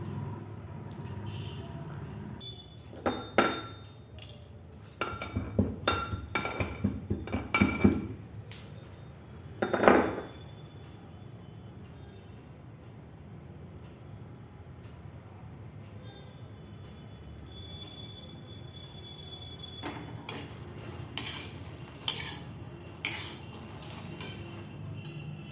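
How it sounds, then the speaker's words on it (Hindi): Green cardamom pods pounded in a mortar, giving a quick series of sharp clinking, crunching strikes, then a long quiet pause before another cluster of hits near the end. "जब तक मूंगफली रोस्ट हो रही है हम इलायची को कूट लेते हैं।"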